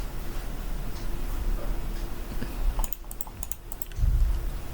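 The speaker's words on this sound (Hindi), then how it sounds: "आप WA टाइप करोगे" Someone taps at a computer keyboard in a quiet room, giving a handful of soft, quick keystroke clicks over low background noise.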